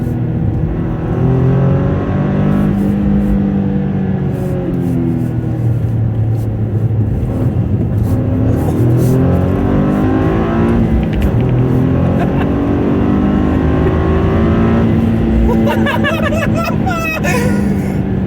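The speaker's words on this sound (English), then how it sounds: "So I'm going to hit my favorite corner in this car." A Toyota GR Corolla hatchback engine rumbles and builds revs steadily while cornering, a loud continuous drone inside the cabin, with brief laughter and a few chuckles heard over it.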